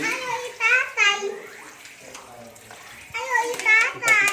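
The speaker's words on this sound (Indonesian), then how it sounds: "Kita cuci terus dengan air ngalir." Flour dough being washed by hand under running tap water to separate out the gluten: steady splashing and trickling water under a woman's speech that comes and goes, close and moderately loud.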